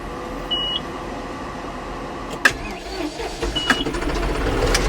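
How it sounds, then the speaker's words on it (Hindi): A John Deere 5405 CRDI tractor with an AC cab cranks and starts, a short beep and clicks followed by the engine catching and settling into a rising, steady diesel rumble close by. "सबसे पहले ट्रैक्टर को कर लेता हूँ मैं स्टार्ट।"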